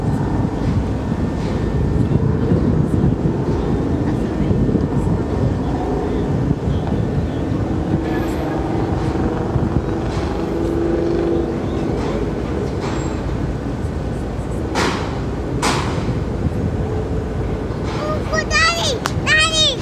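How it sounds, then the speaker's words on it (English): Cars, including Mustangs and a Porsche, drive off the Chi-Cheemaun ferry at South Baymouth, making a continuous, loud rumble of engines and tyres on the ramp. Voices talk over the traffic noise. "All these cars are coming from the boat."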